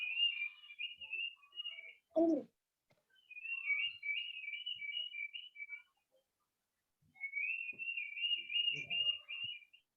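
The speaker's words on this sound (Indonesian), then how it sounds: "Ini burung apa itu?" A bird sings repeated high, warbling chirps in three separate bursts, faint and slightly distant, with a few brief low knocks and a short murmur in the gaps between.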